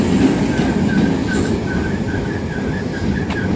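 Train rolling along the railway line at Hadley Wood, a loud continuous rumble with a steady rhythmic wheel beat, close by and uninterrupted by voices.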